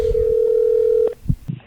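A telephone line being called: a steady single-tone ring or dial tone holds for about a second, then stops, followed by brief faint clicks and a short voice.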